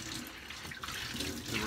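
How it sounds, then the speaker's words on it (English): Hot water runs steadily from a bathroom tap into a sink for a final rinse after a wet shave, a continuous close, full rushing stream with no talk over it. "And again, I rinse with hot water"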